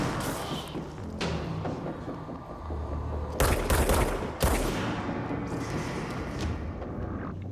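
Gunfire in the Control video game rattles in quick bursts and single shots, with a couple of sharper, louder cracks in the middle over a steady background rumble.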